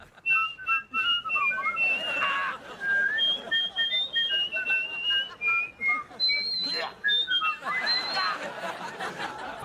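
A person whistles a wandering melody with shifting pitch, joined partway by a second whistler, with a few snickers and chuckles mixed in.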